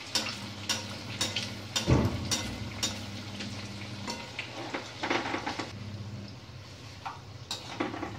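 Medu vada deep frying in a kadhai of hot oil: a steady low sizzle broken by sharp clinks of a utensil against the pan, close and moderately quiet.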